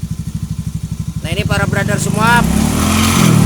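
A Honda Beat scooter engine idles with quick, even thumping pulses, then revs up louder and smoother while someone talks close by over it.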